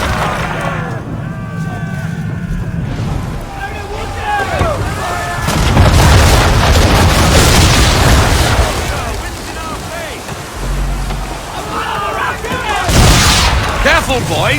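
Naval cannons boom in a burst of heavy broadside fire during a ship battle in Assassin's Creed III, loud and repeated, with shouted voices in the mix.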